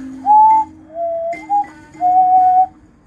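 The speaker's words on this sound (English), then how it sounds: "Ghost whistle." A ghost whistle blown in several separate breathy tones, short eerie notes at slightly shifting pitches with brief gaps between them, close and clear against a quiet background.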